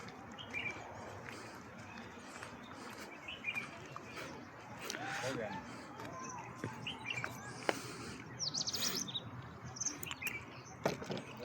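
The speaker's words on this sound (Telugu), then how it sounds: "సో అక్కడైతే బర్డ్స్ చూసాం." Birds chirp and call in an eco park, scattered faint tweets and short calls over a soft outdoor background, with quiet voices of people talking in the distance.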